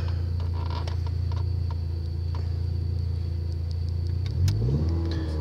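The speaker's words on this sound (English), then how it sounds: "It's got an aftermarket straight exhaust, so it kind of gets a little bit exhausty if you just sit here." A car fitted with an aftermarket straight exhaust and no catalytic converter idles with a steady low rumble close by, and the engine note briefly rises and shifts near the end.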